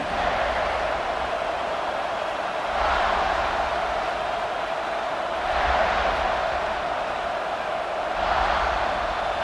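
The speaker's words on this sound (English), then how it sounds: "This crowd ready to make its presence known." Football stadium crowd at Penn State versus South Carolina, a broad roaring wash of fans that swells in loud waves roughly every few seconds, distant and continuous without clear talk.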